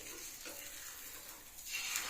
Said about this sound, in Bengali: এখানে হচ্ছে ডিম ভাজা, এটা হাঁসের ডিম